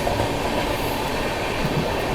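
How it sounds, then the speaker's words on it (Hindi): Another train overtaking on the adjacent track of an Indian express line, a steady dense rumble with wheel clatter and brief squeals, loud and close, with no voices. "कोई तो ट्रेन है भाई, देख नहीं पाए, ओवरटेक सिलसिला शुरू।"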